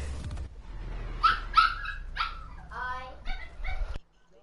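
A dog yips, barks and whimpers in a quick run of short, high cries and whines, close by, ending abruptly; no clear talk over it.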